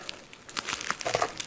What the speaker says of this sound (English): I am taking plastic off, keyboard, mouse, speakers.